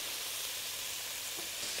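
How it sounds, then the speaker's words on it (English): Bacon fries in a hot pan with a splash of vegetable oil, giving a steady, even sizzle that stays faint and unbroken throughout. "Whilst the bacon's frying"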